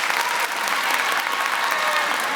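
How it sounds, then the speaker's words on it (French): Middle school students applauding those opposed to a bill on banning social media for under-15s, a loud, dense and continuous wash of crowd clapping filling the room. "applaudissez ceux qui sont contre cette proposition de loi."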